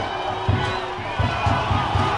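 Spectators at a 12U USA versus Mexico Pan American gold medal baseball game cheer loudly in a steady roar, punctuated by rhythmic clapping or stomping beats, with voices heard over the din.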